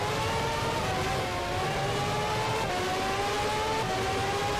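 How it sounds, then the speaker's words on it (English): Formula 1 race cars in the F1 Challenge video game drone with a continuous high engine whine that steps up through the gears in repeated rising sweeps, loud and steady, with no talking. "We're too far behind Brundle, so there was no space left for an overtake."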